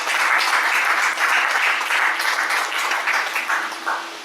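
Loud, dense applause from an audience at a quarterly awards ceremony for a professional guard services company runs steadily throughout and fades a little in the last moments.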